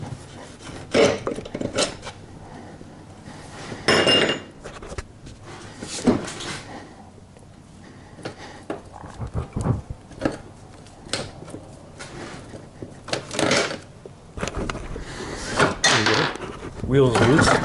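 Rear wheel coming off a Kawasaki ZX14R motorcycle gives repeated metallic clunks, scrapes and knocks of parts shifting, close and fairly loud, with someone speaking between and over the noises.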